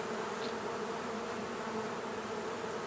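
Honeybees buzz loudly and continuously close around a beekeeper's veil, a dense steady drone with no voices.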